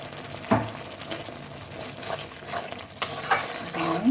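Ground spices, including coriander powder, fry in oil for a kosha curry, giving a constant close sizzle broken by stirring scrapes and clinks of the spoon against the pan.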